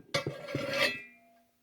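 Cast iron pan knocked and shifted against a hard surface, giving a few close, sharp metallic clanks followed by a brief scraping rub that rings down into quiet.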